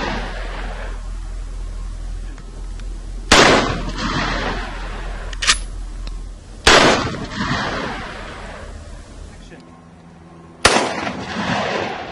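Three loud, sharp blasts from a Mossberg pump shotgun at a weapons demonstration, spaced a few seconds apart, each ringing out briefly, with a fainter clack of the pump action between the first two.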